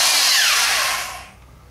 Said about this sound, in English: There's some sort of kryptonite drill bit off the Snap-on truck.